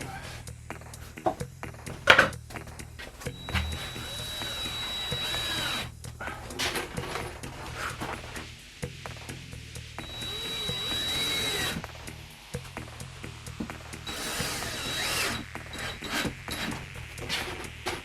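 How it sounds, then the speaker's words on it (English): A power drill runs in bursts during a studio rebuild, whirring spells of several seconds each, separated by rattling, rubbing and tool handling nearby. "now I would like a drill addition"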